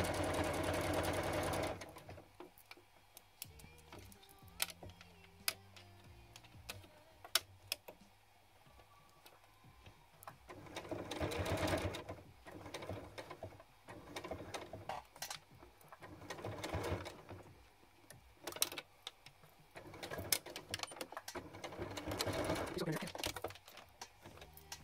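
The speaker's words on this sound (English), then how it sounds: "Then sewing, we're going to go up one side, stop, do a little back stitch," Sewing machine stitching a thrifted men's shirt into a midi flounce skirt, short bursts of fast mechanical whirring separated by quieter pauses, close and moderately loud, alongside occasional clicks and handling noise.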